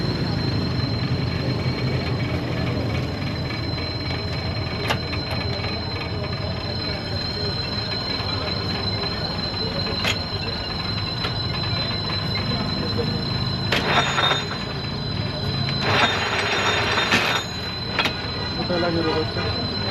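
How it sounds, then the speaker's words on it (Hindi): Grain cruiser machine running in high gear: a steady, loud mechanical drone with a rattling low rumble that holds throughout, a few brief brighter bursts near the end. "अब हम इसको हाई गियर में डालना चाहते हैं, ये हाई स्पीड में जैसे किया।"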